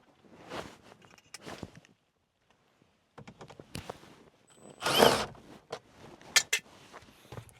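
On a 2019 Jeep Cherokee dash, a power drill fitted with a 7mm socket spins out stereo screws in several short whirring bursts separated by pauses, with handling clicks and rustling between runs.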